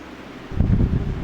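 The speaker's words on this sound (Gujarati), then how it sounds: "ગરમી બહુ પડે એટલે આ પંખો કર્યો ચાલુ" An electric fan switched on against the heat in a village setting gives a steady airy whoosh that swells louder after a moment and keeps blowing close to the microphone, with no talking.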